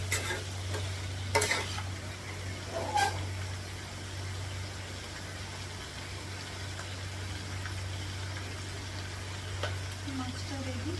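Fish sautéed in hot oil in a home kitchen pan, with a continuous soft sizzle, occasional scraping stirs near the start and a steady low hum underneath throughout.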